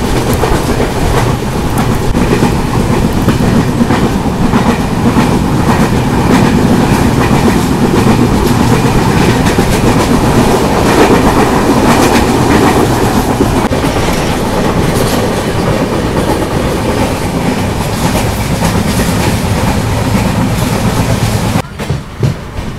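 The Mangalore–Mumbai CSMT SF Express running on the rails, a loud, continuous rumble with rhythmic clickety-clack of wheels heard from on board, steady throughout before a brief drop at the end.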